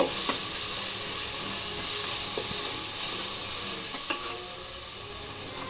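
Half a kilo of chicken hitting hot, freshly ground ginger-garlic paste in a pan for chicken pulao, giving a steady close sizzle and frying hiss with occasional soft stirring clicks, no talking.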